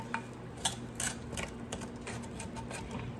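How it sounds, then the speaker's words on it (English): A utensil scrapes browned lamb shank juices from the bottom of a cooking pan, making a few close scratchy clinks and scrapes over a quiet background with no talk. "I'm gonna get all those juices from the bottom, all the scrapings"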